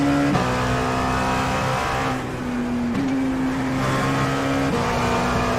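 An LMP2 prototype race car at Mosport (Canadian Tire Motorsport Park) drives past with a loud, steady engine drone, its pitch stepping through gear shifts as it holds speed, close and continuous for the whole stretch.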